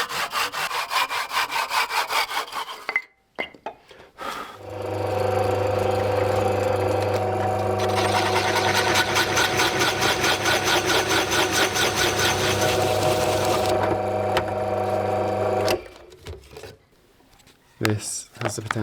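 A drill bores into an old wooden handle with a steady, loud grinding whir that runs for about eleven seconds, preceded and followed by short scraping bursts and brief pauses.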